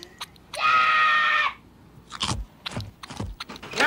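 A crunchy Butterfinger candy bar with a chocolate coating and crisp peanut butter center is bitten in a cartoon commercial: a loud sustained scream comes first, then several sharp crunching bites up close.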